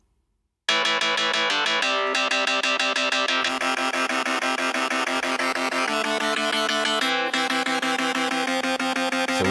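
Guitar part in an 80s video game retro style, heard clean before any bit crusher, playing a fast steady run of bright plucked notes from start to finish, loud and alone with no talk.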